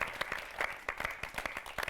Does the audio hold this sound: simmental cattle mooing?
no